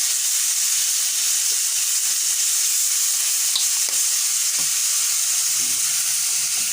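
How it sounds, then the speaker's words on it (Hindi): Chicken drumsticks frying in a pan after spices and soy sauce go in, giving a steady, close sizzle with a few soft stirring clicks and knocks and no talking. "अब 2 से 3 मिनट तक हम इसको मज़ीद फ्राई करेंगे।"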